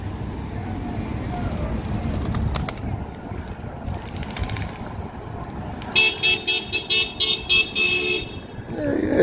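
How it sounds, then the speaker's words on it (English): Car horns honk at a street protest outside an ICE building in Portland, Oregon, sounding as a burst of short repeated beeps near the end over a steady crowd and traffic din, with people talking throughout. "Honk, honk, honk, honk."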